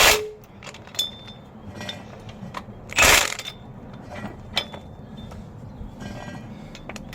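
Ratchet wrench clicking as nuts are tightened onto the rear axle studs of a 1969 Firebird, close metallic ratcheting in short bursts with a couple of sharper clanks.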